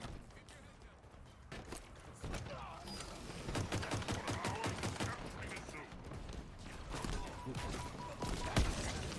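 Rapid pistol gunfire in a Halo video game, with dense overlapping shots crackling steadily under louder game noise and a voice talking throughout.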